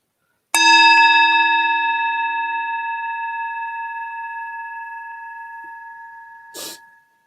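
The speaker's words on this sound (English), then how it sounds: "When you hear the next bell" A single meditation bell struck once, ringing out clear and close with a long, slowly fading tone, followed by a brief soft rustle near the end.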